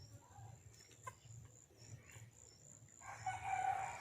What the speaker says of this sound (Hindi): उधर देखिए मुर्गियाँ टहल रही हैं।